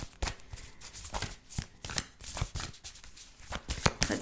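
Tarot cards shuffle close up in a quiet room, a steady run of crisp riffling flicks and soft slaps with no talk.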